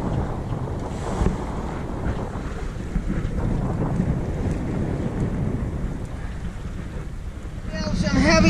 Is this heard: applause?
no